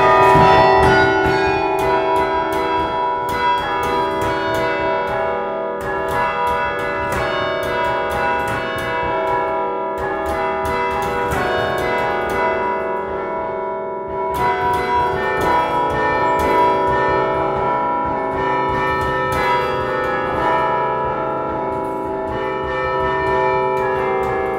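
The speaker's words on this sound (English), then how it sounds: "the chimes are the soundtrack for the Cornell University experience" Cornell University chimes, a set of tower bells, ring out a melodic song continuously with layered overlapping tones, loud and sustained throughout with no talking.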